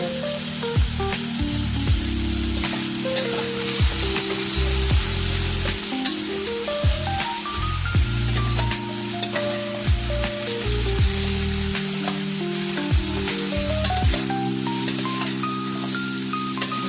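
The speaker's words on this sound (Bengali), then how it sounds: "শিমগুলোকে সুন্দর করে ভাজা ভাজা করে নিচ্ছি।" Flat beans frying in a pan with salt and turmeric, a steady close sizzle with repeated stirring scrapes and clicks over a continuous musical tone throughout.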